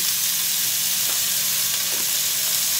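Indomie noodles stir-fried with vegetarian mushroom oyster sauce in a hot pan, with a loud, continuous, close sizzle and crackle and a few faint stirring scrapes.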